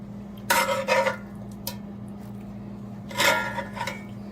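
Cooked shrimp go into a bowl in a kitchen, with two clusters of bright clinks and scrapes of dishware and utensils over a steady low hum.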